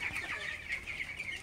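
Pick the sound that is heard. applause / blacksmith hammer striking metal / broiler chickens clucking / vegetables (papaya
broiler chickens clucking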